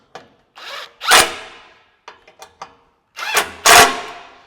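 A power tool drives bolts to fasten a plate onto a Fab Fours rear bumper on a Jeep Gladiator, loud close whirring bursts separated by short pauses and quick trigger blips.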